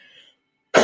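A single sharp, loud cough bursts out after a moment of near silence, preceded by faint background noise.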